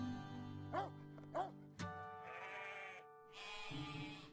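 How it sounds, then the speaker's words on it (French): Sheep bleat in a Provençal farm crèche scene, two short quavering calls followed by a louder bleat, with a drawn-out tonal animal cry and a higher sustained sound near the end, close and clear. "C'est le berger Gaspard qui s'occupe des moutons"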